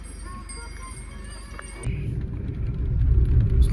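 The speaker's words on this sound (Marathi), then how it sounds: "आता गाडी घेऊन आपण पुढे चाललेलो आहे." A car pulls away and drives on a road near the Varasgaon waterfall outside Pune, with engine rumble and road noise rising and growing louder after a quieter opening.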